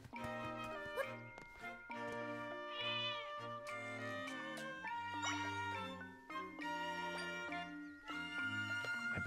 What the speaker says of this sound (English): There's a cat in this house.